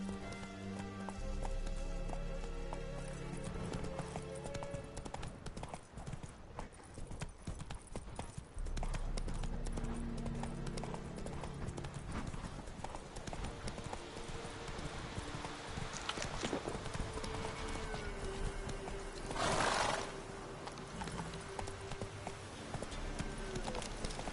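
A horse gallops in The Witcher 3, its hooves drumming in a quick, steady clip-clop rhythm throughout, close and clear over a bed of soft game music.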